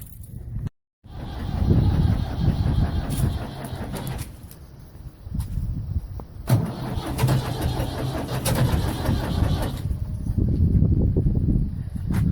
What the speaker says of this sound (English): starting up the backhoe for the day